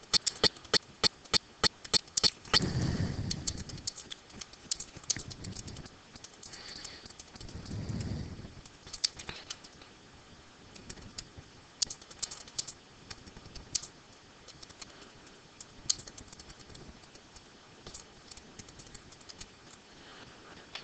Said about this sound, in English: So I can type something like this.